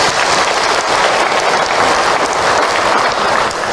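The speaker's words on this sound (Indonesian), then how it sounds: "tepuk tangan untuk Hilman" An audience claps for Ustadz Hilman at an Isra Mi'raj religious talk, a dense, loud and continuous burst of applause filling the room for a few seconds.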